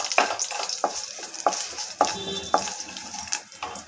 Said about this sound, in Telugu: ఆవాలు చిటపటమనిన తర్వాత 2 రెమ్మల కరివేపాకు వేస్తున్నాను